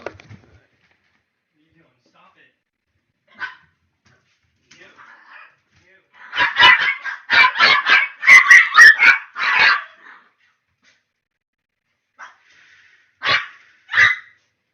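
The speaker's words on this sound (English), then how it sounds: "My dogs are freaking out." Several dogs bark in bursts at a person walking past, a dense cluster of sharp, fairly close barks in the middle followed by a few isolated barks near the end, separated by quiet gaps.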